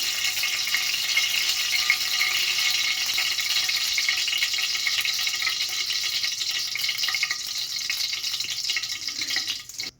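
Oil hissing and sizzling in a heating kadai while cooking egg rice, a steady crackling sizzle close by that cuts off abruptly at the end.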